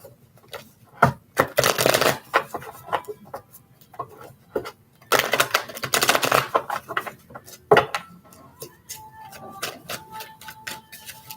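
Tarot cards shuffled and handled in bursts of riffling and sliding, with sharp taps and flicks between, close and fairly loud, no talking.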